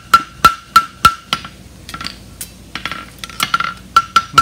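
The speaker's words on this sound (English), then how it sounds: "Come in with the heel of my hammer." Hammer striking a steel horseshoe on an anvil while shaping a European hind barshoe, a fast series of sharp ringing metallic blows with a bright clink, then lighter irregular taps, close and loud.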